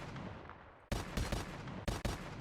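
Gunshots fired in an Unreal Engine 5 zombies game, with two or three loud, sharp bursts following a steady noisy background, no talking.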